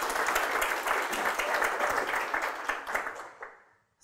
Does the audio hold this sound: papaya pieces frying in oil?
no